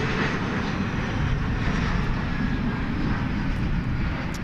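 A United Boeing 737 Max 8 at DFW Airport at night produces a continuous, even jet engine rumble and hiss, fairly loud and unchanging, with no voices.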